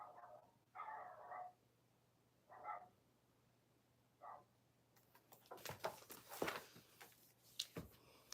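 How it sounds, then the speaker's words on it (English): Dogs barking in the distance, a few separate muffled barks spaced apart, followed by louder rustling and handling noise nearby. "There's some dogs, man. What are they barking about?"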